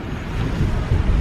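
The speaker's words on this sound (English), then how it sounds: "that wind is fierce over here" Fierce wind roars against the microphone by the sea in Curacao, a loud, continuous low buffeting rush with possible surf beneath.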